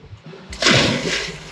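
A splash into the water at a Puerto Rico nature reserve, a sudden loud entry followed by sloshing and churning water close by.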